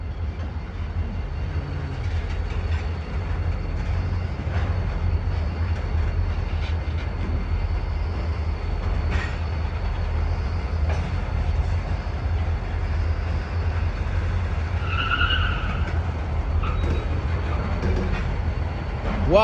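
A continuous low rumble of a passing CSX freight train with an SD40-2 locomotive at Radnor rail yard fills the scene, steady and fairly loud, with a brief high squeal partway through.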